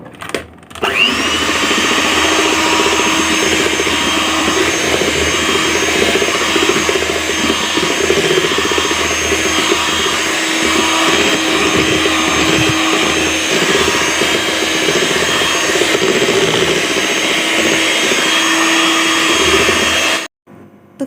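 Electric mixer whipping cream, a loud, steady motor whir running continuously for about twenty seconds before cutting off abruptly.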